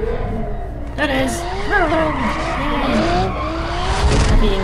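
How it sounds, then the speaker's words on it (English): McLaren F1 tires skidding and squealing in the Need for Speed Undercover racing game, with wavering screeches rising and falling over steady engine drone and a voice talking over it throughout. "This is McLaren F1."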